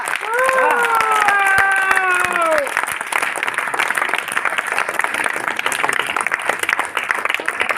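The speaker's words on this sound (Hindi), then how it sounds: "एक बार जोरदार तालियां अभी बजने चाहिए भाई" Loud audience applause and cheering at a ladies' marketing team gathering, dense clapping throughout with a few voices whooping and shouting over it near the start.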